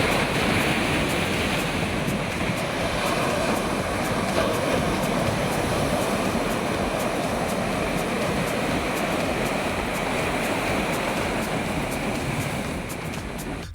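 Rough, storm-driven sea waves on the Kanniyakumari coast during a heavy-rain red alert, a continuous loud, broadband roar of surf with no pauses and no voices.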